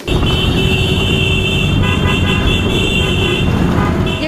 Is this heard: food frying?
no